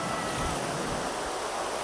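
Strong ocean waves at a beach roll in as a steady, broad wash of surf, close and continuous, with some wind buffeting the microphone and no voices heard.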